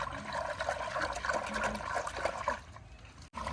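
Liquid detergent is mixed by hand into a tub of water, producing close, sloshing and trickling water sounds that fade out near the end.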